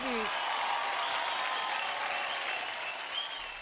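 A studio audience on a televised dance competition gives loud, continuous applause and cheering, dense and even across the whole stretch, with a voice heard briefly at the start.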